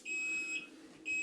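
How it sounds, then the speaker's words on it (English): A kitchen timer beeps twice in a steady electronic tone while biscuits and chocolate gravy are being cooked. The first beep is long and the second is short, with faint kitchen background and no talking. "My timer's gone off."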